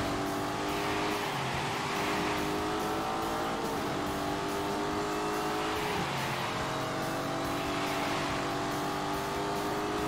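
Racing car engines from The Grand Tour Game, a loud continuous drone of revving motors with shifting pitch and occasional tire squeal, filling the whole stretch without talk.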